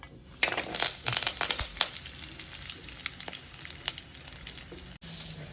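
Mutton boti pieces sizzle and crackle in a hot pan with onion, a steady dense frying hiss broken by sharp pops and stirring scrapes, close and alone without talk.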